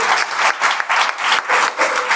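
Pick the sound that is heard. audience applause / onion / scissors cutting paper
audience applause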